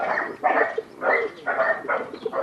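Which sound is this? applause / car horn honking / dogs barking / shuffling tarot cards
dogs barking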